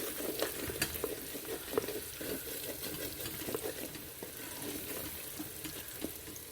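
Onions browning in a pan for gobi keema, giving a faint, steady sizzle punctuated by light, irregular scrapes and taps of stirring.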